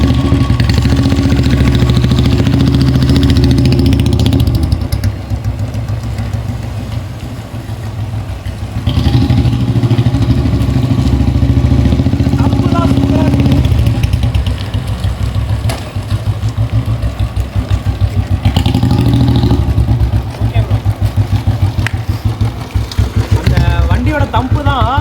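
Vintage Royal Enfield Bullet 350 single-cylinder engine idling steadily up close, a continuous low thumping rumble throughout with a brief dip in level midway, while people talk over it.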